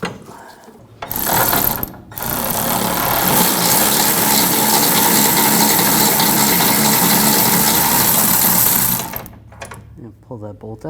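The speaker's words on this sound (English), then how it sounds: "I'm going to use a 21mm wrench and loosen up the bolt" A 21mm ratchet wrench works loose a rear shock absorber bolt on a 2011-2018 Volkswagen Jetta, giving one long, loud, continuous run of rapid clicking that starts, briefly pauses, then carries on close to the microphone for several seconds.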